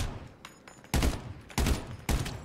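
Video game gunfire rings out in three loud, sharp bursts spaced about half a second apart, each one booming with a quick crackling tail, after a quieter lead-in with faint clicks.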